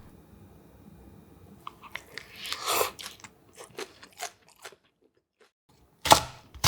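Close, crisp crunching bites and chewing of lettuce bibimbap mixed with sesame oil and egg yolk, a few scattered soft chews followed by a louder burst of crunching near the end.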